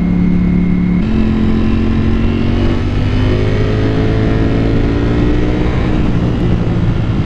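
A Ducati Panigale V4 S motorcycle accelerating hard, its engine loud and close with a continuous rising roar as the revs climb, with a brief shift partway through.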